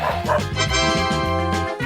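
Dog yipping and whimpering in a cartoon scene, a rapid run of short high-pitched barks and whines, close and loud, continuing without a break and with no talk over it.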